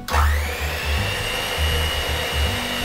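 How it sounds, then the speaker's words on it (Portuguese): An electric stand or hand mixer beats a Nutella and vanilla cream, a loud, steady motor whine with low churning pulses as the beaters work through the thick mixture, heard alone. "É só bater tudo isso aqui aqui na batedeira, até ficar tudo homogêneo"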